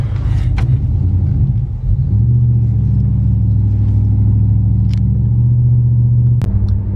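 Ram pickup truck with a swapped-in 8-speed transmission rolling along, its engine droning low and steady from inside the cab, the tone shifting up as it pulls after a brief dip.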